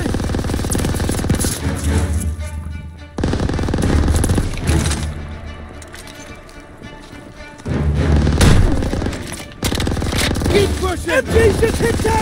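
Machine gun fire in the Collateral Damage video game, long dense bursts of rapid shots and booms broken by short lulls, with shouting voices over the combat.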